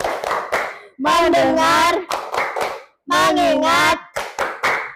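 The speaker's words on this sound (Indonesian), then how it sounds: "Tepuk fokus" Rhythmic hand clapping in a classroom focus-clap routine, with claps in short bursts alternating with a loud chanted group voice.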